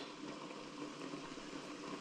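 Steak tips in mushroom gravy boil in an uncovered pot, a steady close bubbling hiss with no clear gaps, quiet and continuous throughout.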